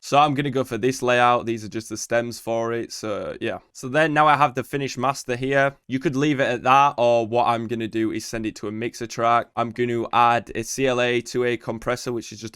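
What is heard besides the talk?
No everyday noises stand out.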